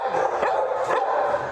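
Several dogs in a room at the Buffalo city animal shelter, one sick with kennel cough, bark and yip in quick overlapping bursts, close and loud, with a reverberant indoor sound.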